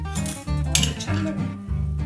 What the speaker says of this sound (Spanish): Y lo vamos a mezclar con el azúcar. Vamos a moverlo.